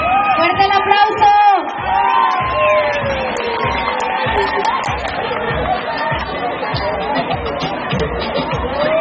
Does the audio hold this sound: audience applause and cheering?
yes